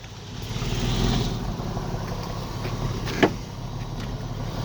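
A car engine fitted with an aftermarket exhaust runs at a steady idle close by, with a deep continuous rumble and one brief click around the middle; no one speaks.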